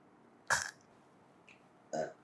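Two short, guttural burps from a person tasting whisky, separated by a brief pause, close to the microphone with no talking.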